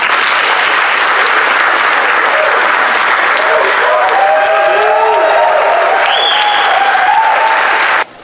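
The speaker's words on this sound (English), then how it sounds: "Let's give another round of applause to Captain Menlove, yeah?" Loud, sustained applause from an audience at a firefighter academy graduation ceremony, dense steady clapping with a few faint whistles and cheers mixed in, running for about eight seconds before cutting off abruptly.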